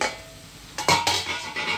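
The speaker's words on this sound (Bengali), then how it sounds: "দেখো এদিকে আমি শাক, পালং শাক আলু দিয়ে রসুন দিয়ে ভাজছি" Spinach being fried with potatoes and garlic in a pan, with a utensil clinking and scraping against the metal in a few short bursts over a low background hiss.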